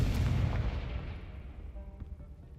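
A Confringo spell blast from a video game erupts as a loud, booming explosion at the start, its deep rumble fading and thinning out over the next two seconds.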